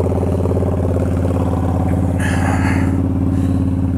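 Motorcycle engine idling while warming up on a cold day around 10 degrees, a steady close rhythmic putter with a loud even tone and a brief hiss partway through.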